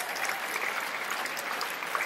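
Steady, dense applause from a comedy club audience reacting to a stand-up routine, a continuous even wash of clapping with no pauses or talk over it.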